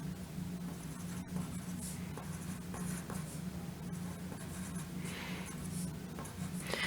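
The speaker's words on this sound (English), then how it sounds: "So let me draw angle PQR." Drawing an angle by hand for a geometry lesson on locus of points: steady pen or pencil strokes scraping across paper, close and continuous, with a low background hum and no talking.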